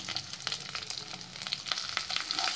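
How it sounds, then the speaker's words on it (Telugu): Cumin, coriander seeds, dried red chilies, green chilies, garlic cloves, tamarind and salt fry in hot oil for an Andhra roasted brinjal chutney. It is a close, crackling sizzle full of quick popping spatters, fairly soft and continuous, with no speech. "ఇవి కాస్త వేగనిద్దాము."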